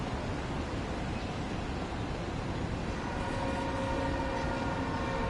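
A steady, dense rumble of a train engine with rolling wheel noise in the video game Train Sim World 5, continuous and even throughout, no talking.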